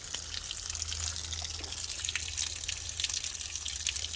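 Water draining from the coolant system of a Freightliner cabover truck with a Big Cam Cummins engine, a steady trickling and dripping flow that runs continuously at close range, with no talking.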